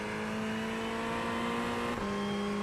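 A Ferrari 488 GT3 Evo in the iRacing video game at the Hungaroring holds a loud, steady, high engine drone that climbs under acceleration and shifts pitch once near the end, heard alone without talk.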